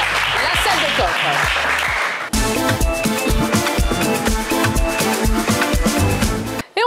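A game-show studio audience applauds a contestant with a dense patter of clapping for about two seconds, then loud music takes over for the rest.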